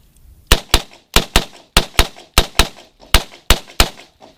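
A Ruger American rifle in 450 Bushmaster firing at a pumpkin: loud, sharp cracks in quick pairs, about a dozen shots in all, each with a brief decaying tail.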